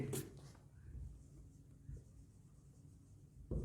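A pen scratches across paper nearby as a journal entry is written, soft and faint, with a brief voice before and after.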